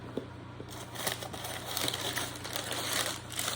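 Cardboard packaging of an electric rechargeable air duster being handled nearby, giving quiet crushing and crinkling rustles with small taps over a low steady hum.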